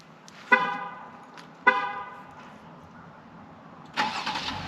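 Two short truck horn honks from a remote starter, a second apart, followed a couple of seconds later by the engine cranking and catching, fairly close with no talking.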